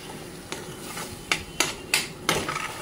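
A spoon stirs and scrapes through a thick coconut masala curry in a metal pan after red chili powder is added, giving a handful of irregular sharp clinks and scrapes over a low background hiss.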